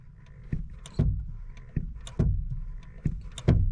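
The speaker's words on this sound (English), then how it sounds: "take a listen while I push the clutch in" Several dull mechanical clunks and thumps as the clutch pedal is pushed in, about five spread over a few seconds, close up inside a quiet 2008 Honda Civic Si cabin with a low hum behind them.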